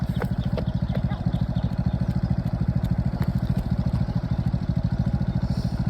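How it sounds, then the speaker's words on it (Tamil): A vehicle with a rapid, steady engine chug, close and loud throughout, beside children running, with a faint voice now and then. "வழி விட வண்டி வந்துட்டு இருக்கான்."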